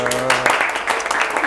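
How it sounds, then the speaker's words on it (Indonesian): Brief applause during a podcast conversation: a voice holds a note at the start, then a burst of close, quick clapping fills the rest. "tepuk tangan dulu"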